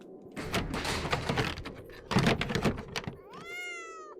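Cat meow in the horror video game Befriended Curse, a drawn-out rising-and-falling yowl near the end, preceded by loud scraping and thumping game noises.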